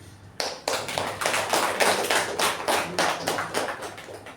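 Applause from a meeting audience following a speech, a dense burst of hand clapping that starts abruptly and holds steady for several seconds, fairly close and with no talking over it.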